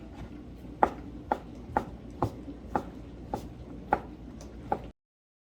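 Knife julienning asparagus or other vegetables on a cutting board, about nine crisp, evenly spaced chops close by, faint and unhurried, then silence.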